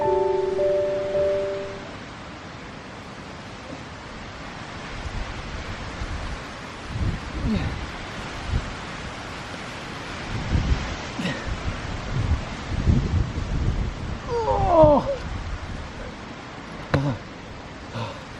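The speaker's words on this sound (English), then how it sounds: "It's really windy up here." Gusty wind at a gorge on a Sleeping Giant backpacking trail buffets the microphone in low, rumbling surges, strong at times and easing between gusts, with faint outdoor sounds in the background.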